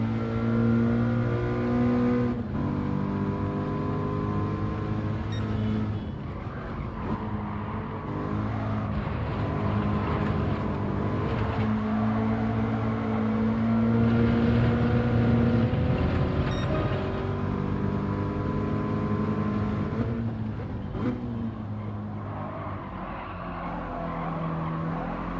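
Toyota 86 race car in the Gran Turismo 7 video game at Tsukuba, engine droning steadily with rising revs and abrupt gear changes breaking the tone, heard alone throughout.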